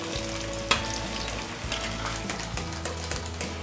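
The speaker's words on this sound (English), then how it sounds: "So now I'll gently put potatoes inside the oil for frying." Potato pieces frying in hot oil over a high flame, a steady dense sizzle with a brief clatter as they settle, no voices.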